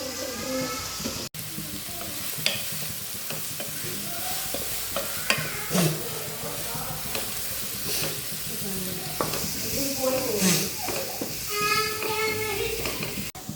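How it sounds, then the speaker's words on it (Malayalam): Onions sauté in a pan for a madhooth recipe, with a continuous sizzle and frequent scraping stirs of a utensil. A short clatter comes near the start, and no one speaks. "ഓണിയന് നല്ലോണം സോട്ട് ചെയ്യുക."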